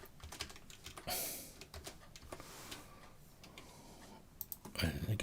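Computer keyboard typing nearby, bursts of quick clicking keystrokes in uneven runs with short pauses, moderately quiet, under faint room sound.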